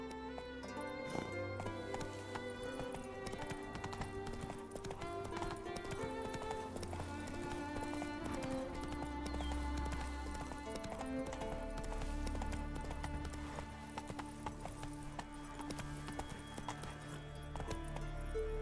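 Roach, Geralt's horse in The Witcher 3, gallops in steady, rhythmic hoofbeats that carry on throughout, under loud orchestral game music.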